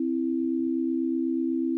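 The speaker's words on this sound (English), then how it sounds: "That's basically what the dial tone sounded like, was this to a major third sine wave." A single-operator sine wave from an FM-X synthesizer engine holds one steady, pure, unwavering tone much like an old telephone dial tone, clean and constant at a fairly loud level with no voices.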